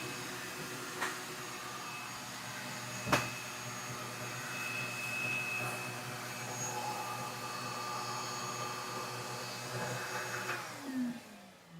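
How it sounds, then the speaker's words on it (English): A clogged shop vac in a sign-cutting workshop roars steadily and close for most of the stretch, with one sharp knock near the start, before its motor winds down at the end. "that shop vac needs to cool down because it just ran for 30 minutes fully clogged, so it's warm"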